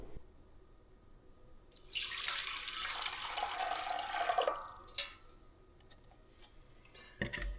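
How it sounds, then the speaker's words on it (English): Water pours steadily from a bottle into a part of an old Michigan loader for a leak test, a close splashing rush lasting a few seconds before stopping, followed by a couple of sharp knocks. "we're gonna dump some water in there and let it sit there"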